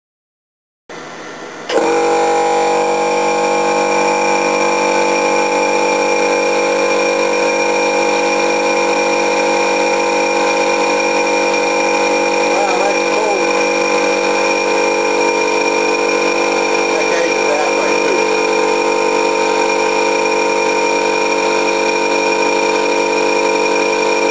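A vacuum fitted with a filter and a small muffler starts up after a second of silence, then runs as a loud, steady, close drone with strong tonal whine that stays level for the rest of the clip.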